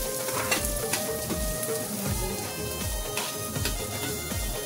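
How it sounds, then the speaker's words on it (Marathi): Chopped onion fries in a spoonful of hot oil for a clam curry, a steady close sizzle with stirring scrapes and light clinks running throughout, no talking. "आपल्याला चांगल्या प्रकारे कांदा मारून घ्यायचा आहे तेलावर"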